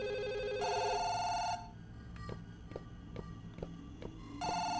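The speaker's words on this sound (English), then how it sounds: "Why did the ringtone completely change when I changed environments?" A telephone rings in a Chinese puzzle-horror video game, two bursts of an electronic ringtone, moderately loud and close, separated by a quieter stretch of tapping footsteps or knocks.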